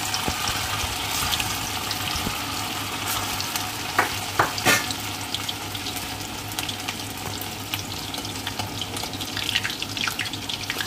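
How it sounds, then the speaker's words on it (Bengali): Chicken kofta balls fry in hot white oil, giving a loud, steady sizzle with occasional crackles and soft stirring clatter, heard alone with no talk. "এবার একে একে চিকেনের বলগুলোকে এইভাবে একটু ছেড়ে নেব, দিয়ে একটু লাল লাল করে ভেজে নেব।"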